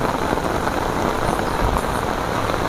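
Heavy rain pours down steadily in a mountain forest on Mount Welirang, a loud, dense, continuous hiss of drops striking leaves and ground with no pauses.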